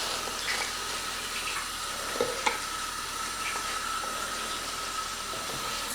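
Tap water runs steadily while fresh vegetables are rinsed in a sink, a continuous hissing splash with a couple of faint clunks, close by and unaccompanied by speech.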